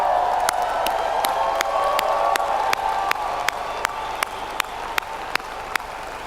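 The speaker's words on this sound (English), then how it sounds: "Don't you think the staff of Forever in the world deserves a big round of applause?" Keynote audience at a large rally applauding, a thick, steady roar of many hands with some cheering, punctuated by regular sharp rhythmic claps standing out from the wash.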